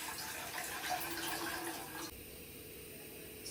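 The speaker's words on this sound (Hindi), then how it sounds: "और ये अब डालेंगे इसमें पानी।" Water is poured into a pot while making a home kadha for colds and coughs, a steady rushing splash lasting about two seconds before it cuts to quieter room noise.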